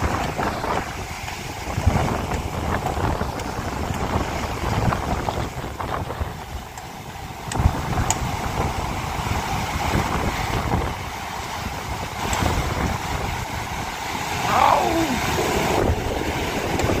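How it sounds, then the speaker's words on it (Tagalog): Steady wind roar and rushing water fill the whole stretch, with occasional heavier surges like waves slapping against a hull, close and continuous, no voices. "Tanda ng alon. Galit na galit ang karagatan."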